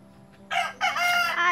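A rooster crows loudly and close by, two drawn-out cock-a-doodle-doo calls in quick succession over a quiet background.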